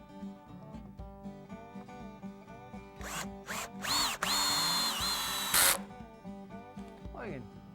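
A power drill drives long Torx head screws into logs for a log stairway, with short whirring bursts building to a loud, sustained high-pitched spin and a final strained grind, close by, with faint talk at the start.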